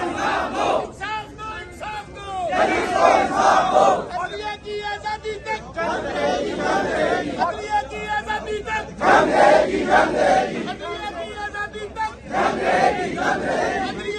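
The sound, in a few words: PTI workers chanting slogans outside Pindi press club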